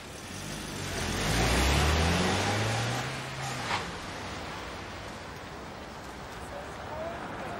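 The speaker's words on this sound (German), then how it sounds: "Der Wagen ist jetzt da!" A car pulls up nearby with a low engine rumble that swells, peaks and then settles into a steady idle, while people talk over it.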